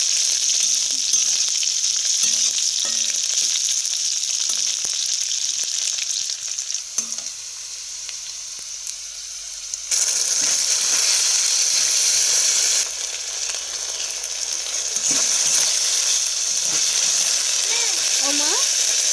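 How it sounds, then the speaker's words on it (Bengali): Capsicum frying in a pan, a loud, steady close sizzle with a few stirring scrapes and a brief dip partway through, no clear talking. "ক্যাপসিকামের কাঁচা গন্ধটা যাতে চলে যায় ততক্ষণ অবধি ক্যাপসিকামটাকে একটু ভাজবো।"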